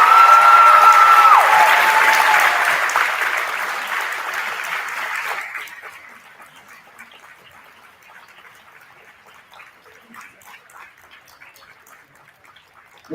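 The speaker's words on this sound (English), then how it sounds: "Let's give them all a nice round of applause" An honors-night audience applauds loudly at first, a dense wash of clapping that thins out and fades after about five seconds into scattered, lighter claps in a large room.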